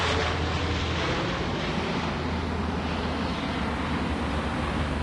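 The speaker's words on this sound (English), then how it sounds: "Plane coming into land at Dice International Airport." A continuous, loud airplane engine roar, a steady broadband rumble with deep low hum, holding evenly throughout as the aircraft passes overhead while coming in to land at an airport.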